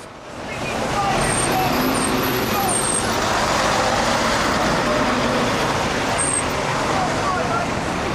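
A London Routemaster diesel bus pulls away amid busy street noise, engine rumble building steadily, with brief brake hisses and a crowd murmuring nearby.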